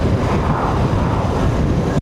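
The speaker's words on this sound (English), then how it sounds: "I just hope the wind stays down." Heavy wind buffeting a microphone on an outdoor ride, a loud, continuous low rumble with no voices.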